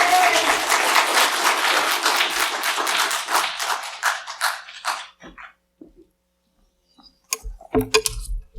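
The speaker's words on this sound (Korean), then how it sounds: "다시 한번 큰 박수로 우리 선교사님 격려하길 바랍니다." A church congregation applauding, loud and dense clapping that dies away after about five seconds, followed by near silence and then a few scattered knocks and movement sounds.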